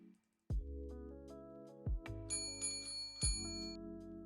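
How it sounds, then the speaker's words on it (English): Several bright bell strikes ring out one after another, each with a sustained metallic tone that decays slowly, loud and close with no talking, set amid a big grinding dig. "Did you hear the bell?"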